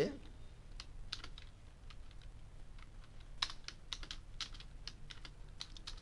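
Keys clack quickly and irregularly on a computer keyboard, with scattered, fairly quiet presses and one sharper tap that could be the enter key, all against a low background hum.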